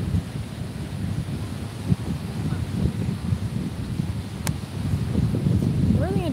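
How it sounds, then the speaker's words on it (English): Wind gusts rumble against the microphone in a continuous low buffeting that grows stronger toward the end. "It's windy, not too windy."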